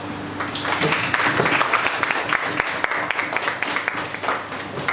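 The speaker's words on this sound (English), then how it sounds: "please join me in welcoming our dignitaries with a round of applause." Audience applause welcoming dignitaries at an AI faculty development programme in an engineering college hall, a sustained crowd of hands clapping with a steady hum beneath, fairly loud and fading slightly toward the end.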